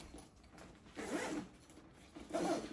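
A zipper closes on a compartment of an Aer Flight Pack 2 backpack, two quick close-up zipping strokes with a short pause between them, no talking.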